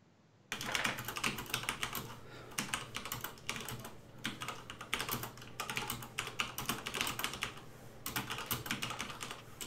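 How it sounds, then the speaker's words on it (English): Heavy, fast typing on a computer keyboard, close and loud, with clattering bursts of keystrokes and brief pauses between runs. "Why are you killing the poor keyboard?"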